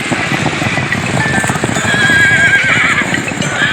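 Horses gallop at a tent pegging event, hoofbeats clip-clopping steadily and close alongside neighs and whinnies over a loud, busy outdoor crowd.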